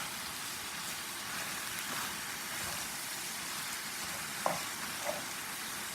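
Ground beef cooks down in oil with a dense, continuous crackling sizzle, and a couple of brief utensil knocks sound as it is stirred.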